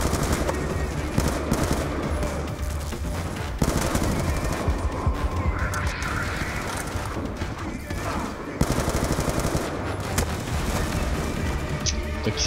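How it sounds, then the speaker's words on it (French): Sustained gunfire rattles toward the player in Call of Duty: Black Ops 2, with dense machine-gun bursts and heavier booms overlapping continuously, loud and close throughout. "Qui c'est qui me tire dessus là?"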